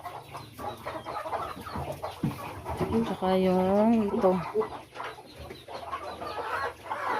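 Chickens cluck and a rooster-like call rises in the middle, close by, mixed with a person speaking.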